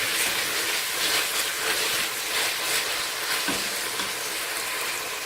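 Bacon lardons and blanched onions sizzle steadily in a pan for a bourguignon, a dense continuous crackle with faint stirring scrapes and no voices.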